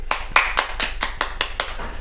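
Children clap their hands in a quick, even rhythm of about nine sharp, close claps, with no talking.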